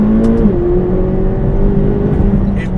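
A McLaren 570GT accelerating hard, a loud close engine note with a rising whine that climbs steadily through the rev range, heard from inside the car.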